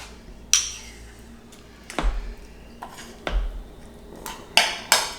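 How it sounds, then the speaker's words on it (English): Pumpkin and peanut butter spooned into a bowl for homemade dog treats, giving a handful of bright ringing clinks of a spoon against the bowl with low thuds between, close and fairly loud. "I'm going to add my pumpkin. And my peanut butter."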